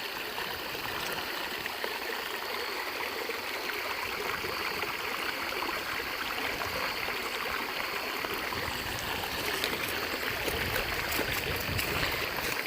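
Creek flowing through woods in Mohican State Park along horse trails: a steady, soft hiss of running water, continuous and even throughout, with no voices.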